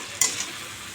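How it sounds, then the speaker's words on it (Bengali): A spatula scrapes once through capsicum frying in a pan, a short close stir over a soft, steady sizzle of hot oil, with no voices. "ক্যাপসিকাম ভাজা হয়ে গেল নাড়িয়ে দিই এবার"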